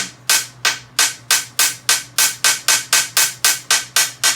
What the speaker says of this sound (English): you're really balancing the hammer and letting it fall